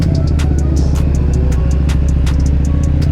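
A Kawasaki ZX10 motorcycle engine drones close and loud during off-road riding, a steady rumbling idle with a pulsing low throb and faint ticking clicks on top.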